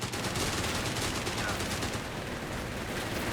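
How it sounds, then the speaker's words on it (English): Machine gun fire in the strategy game Company of Heroes 3 during a 2v2 match, a dense rapid crackle of shots layered with other battle gunfire, steady and continuous throughout. "Got the MG joining in now, though."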